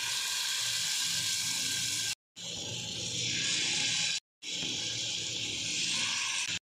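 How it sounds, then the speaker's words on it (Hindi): Marinated chicken pieces laid one by one into a hot pan of melted butter, giving a steady, close, broadband sizzle in three stretches separated by short silent cuts, with no voices. "मैरिनेटेड चिकन 1-1 करके रख देंगे।"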